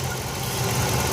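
A 6.1 HEMI V8 idles steadily after about ten minutes of running during head gasket testing, giving a constant, fairly loud low rumble with no speech over it.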